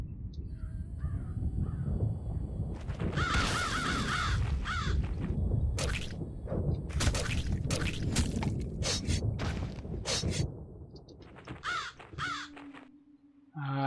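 Crows caw repeatedly in the horror game BloodLust: Shadowhunter, loud harsh calls coming in bursts over a dense, rumbling game soundscape with clanks and crashes, ending in a brief quieter stretch.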